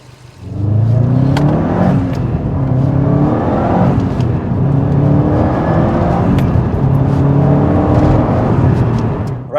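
A Subaru Impreza STI S202 Bug Eye pulling away and accelerating through gears, a loud, steady engine drone with rising pitch sweeps and gear changes heard from inside the car, no talking.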